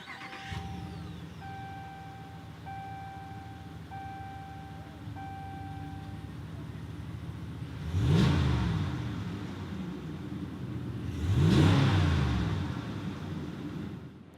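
A 2019 RAM 1500 Rebel pickup starts with a push-button, then settles into a steady idle with a warning chime sounding several times. Two loud revs follow, each swelling and fading, close by, with no talk.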